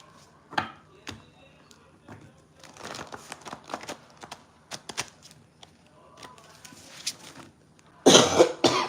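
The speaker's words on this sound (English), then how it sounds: "I know that cough sound bad" A person coughs several times in quick, irregular bursts, close and sharp against a quiet room, with rustling and handling noises between the coughs and a loud final burst of noise.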